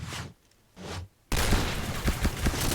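A dense, loud burst of continuous gunfire from the video game Point Blank follows two short, quieter shots, with the firing sustained to the end.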